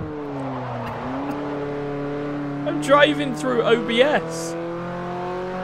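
A car drives in Forza Motorsport 4 during a Class F European Tour race, its engine holding a steady drone before sharp revving and tire squeal burst out midway, while someone talks briefly over it.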